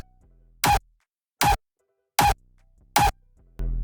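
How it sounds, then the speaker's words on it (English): A click layer for a hardstyle kick drum plays as four short, sharp, evenly spaced clicks. A heavier, sustained low thump follows at the end. "So I added this little click layer, which sounds like this"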